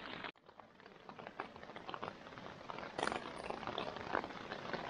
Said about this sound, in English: Good morning. It's raining.